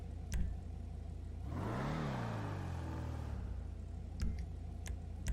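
The Declasse Vigero ZX muscle car in GTA 5 revs its engine once, a rising and falling whirring roar lasting about two seconds over a quiet low hum, followed by a few sharp clicks.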